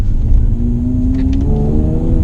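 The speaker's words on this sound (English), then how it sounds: "when I'm in Sport Plus mode now, and just now when I rev and it upshifts, it does a bit of that thing" A 2018 Mercedes-Benz C43 AMG in Sport Plus mode revs hard with a rising engine note, then drops pitch abruptly as it upshifts. The loud, close rumble carries straight through the gear change.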